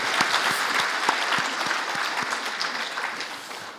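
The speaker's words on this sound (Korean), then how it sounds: "우리 19분의 총재님께 한번 큰 힘찬 박수 한번 드릴까요?" Applause from an audience at a Korean organization's meeting, honoring its district governors: sustained crowd clapping with a few sharp, close individual claps standing out early on, easing gradually toward the end.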